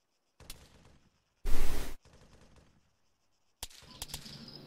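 Gunfire in a military simulation game (ARMA) during a roadblock engagement, with a few scattered distant shots, one loud close burst in the middle and a quick cluster of cracks near the end.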